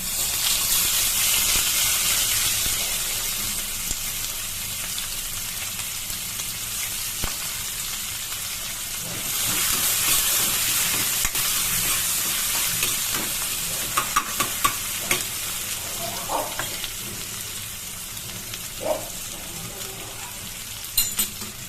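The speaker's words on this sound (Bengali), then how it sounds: "এবার আমি এই তেলেই আমি আমার কাজটা পেঁয়াজ দিয়ে দিলাম" Onions sizzle loudly in hot oil left from frying pointed gourd, a dense steady hiss with occasional scraping stirs and light clicks of the spatula.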